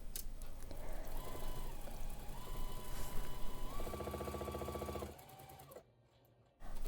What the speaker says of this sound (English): I'm going to keep sewing some scraps together